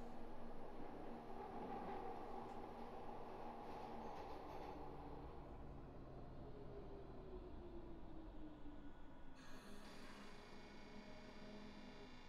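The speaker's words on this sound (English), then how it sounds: "Our train is once again making loud noises, which I don't understand." A Glasgow Subway train on the Inner Circle runs with a loud continuous rumble and rattle, with high squealing tones from the wheels that rise and shift, and a sharp hiss near the end as it slows.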